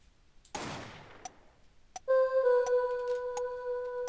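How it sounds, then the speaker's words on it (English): A sharp video game gunshot blast with a decaying noisy tail, followed by a second crack and then a sustained electronic tone with steady harmonics and faint ticking, from Apollo Justice: Ace Attorney. "How are you not able to hear that gunshot?"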